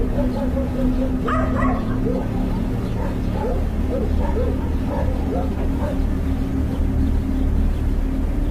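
Several dogs bark at night in short, scattered yips and woofs, some distant, over a steady low rumble with a voice talking throughout.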